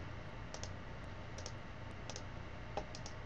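Computer mouse clicking while working in Photoshop CS4, sparse sharp clicks spaced unevenly, some in quick pairs, faint and close over a quiet room hum, with no talking.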